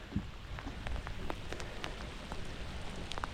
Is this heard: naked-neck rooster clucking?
no